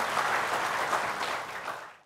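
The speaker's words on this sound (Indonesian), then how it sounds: "Tepuk tangan yang meriah untuk para penanya kita." A health talk-show audience in Purwakarta gives steady applause to the questioners, a dense, even wash of clapping that fades at the end.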